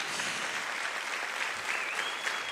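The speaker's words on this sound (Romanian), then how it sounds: "Uite ce de aplauze ai primit astă seară!" An audience applauds young dancers at a national folk festival in Sibiu, a dense, steady wash of many hands clapping at once, sustained evenly throughout with no voices on top.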